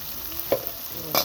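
Garlic paste and chili powder fry in a pan for a shrimp bhuna, with a soft, steady sizzle near at hand and two brief scraping stirs.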